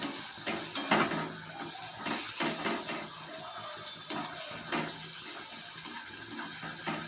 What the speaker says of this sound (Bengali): সমস্ত মশলা দিয়ে নেড়ে চেড়ে আরও 4 মিনিট কষিয়ে নেব।